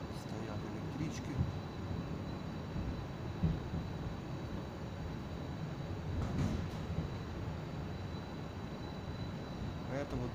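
A train pulls into Savyolovsky station in Moscow on an autumn day, a steady broad rumble of rolling wheels and motors with a few brief squeals and clanks, close and continuous throughout.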